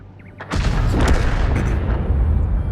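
Heavy artillery fire in World of Tanks slams in after a quiet moment, a loud booming blast that rolls into a long rumbling roar with crackling debris layered over it.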